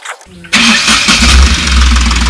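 A 2018 Ashok Leyland Dost RLS BS4 light truck engine cranks briefly, then catches and roars to life, settling into a loud, steady rumbling idle close by.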